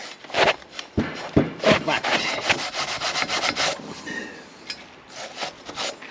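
A bristle brush scrubs the grimy internals of a seized 347 stroker engine, giving repeated rough rubbing and scratching strokes up close with an uneven back-and-forth rhythm and no speech.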